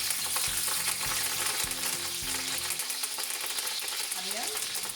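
Curry leaves and pandan leaves sizzle and crackle steadily in hot coconut oil, a loud continuous frying hiss with a few soft clinks of a utensil against the pot.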